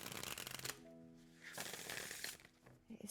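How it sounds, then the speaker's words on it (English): A nature-themed tarot card deck is shuffled close up, giving bursts of riffling, rustling card noise, a brief pause with a faint tone, then more soft flapping shuffles. "And I shuffle this deck a lot because really shuffling is so fun with this deck."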